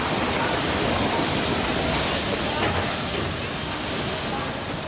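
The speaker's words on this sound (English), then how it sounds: "Nothing evokes the romance of the railway like a steam engine." A steam locomotive pulls into Pondicherry station, giving off a loud, steady hiss of steam with a broad rushing rumble that surges slightly in waves and never lets up.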